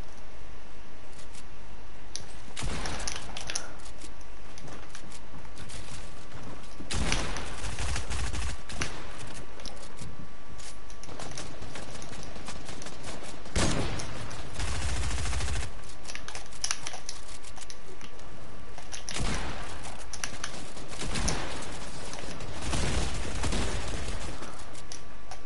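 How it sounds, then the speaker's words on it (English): Fortnite gunfire breaks out in several loud, dense bursts of rapid shots spread across the stretch, separated by quieter gaps of game background. "Shots from over here."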